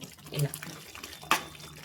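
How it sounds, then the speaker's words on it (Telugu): Water from a rinsed mixer-grinder jar being poured into an egg masala gravy curry: a short splash and gurgle, close and fairly loud, rising sharply near the end of a brief stretch of low background. "ఈ వాటర్ నేను మిక్సీ కప్పు కడిగి పోస్తున్నా"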